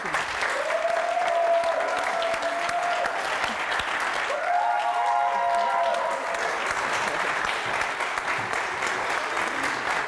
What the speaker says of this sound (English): Ladies and gentlemen, please, a round of applause for Tonto DIKE.